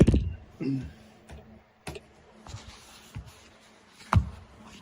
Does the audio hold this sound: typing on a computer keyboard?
yes